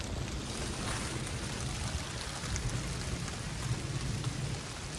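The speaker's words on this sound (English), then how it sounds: "it started raining pretty good here, so I propped my canoe up in a tree and I'm just hanging out under it" Heavy rain pours steadily in the wilderness during a solo camping trip, a dense, constant hiss and patter on surfaces close by, with a low rumble underneath and no talking.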